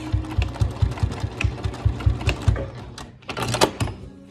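A sewing machine does a tack stitch on a cloth face mask, giving a loud, close, rapid rhythmic chatter of needle strokes that stops briefly, then restarts with a few clicks and rustles.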